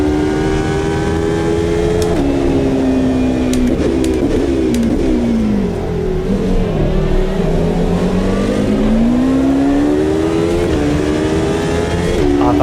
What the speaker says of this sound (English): That car sounds so good whether you're in the driver's seat or not.